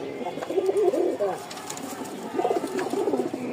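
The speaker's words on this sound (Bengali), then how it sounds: "দেখেন নরের ডাকটা" A male Giribaz pigeon coos close by, with two bursts of low, rolling, bubbling calls separated by a short pause, over faint background noise.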